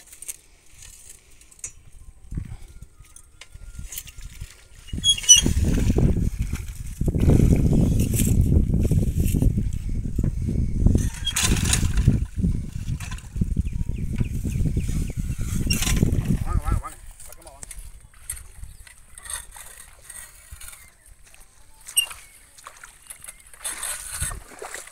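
A paddy weeder machine runs in a flooded field near Melur, Madurai, giving a loud, rough churning and splashing roar for about ten seconds between quieter stretches, with voices faint in the background.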